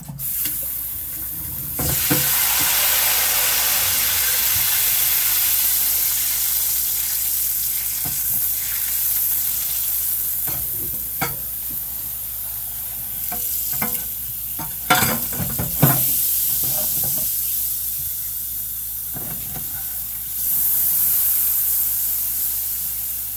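Bacon grease sizzles and hisses steadily in a pan, a loud continuous crackle with occasional sharper pops and scrapes, briefly easing around the middle before swelling again near the end.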